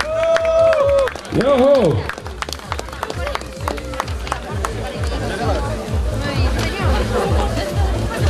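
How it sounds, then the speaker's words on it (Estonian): Audience clapping at an outdoor award ceremony, brisk applause under loud voices, with someone shouting a cheer near the start. "teile suur aplausi"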